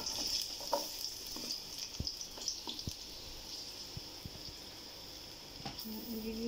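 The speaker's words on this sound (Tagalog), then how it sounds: "Ayan, igigisa natin." Crab sizzles and fries in a pot with scattered clinks and stirring knocks, fairly quiet, a steady hiss running underneath.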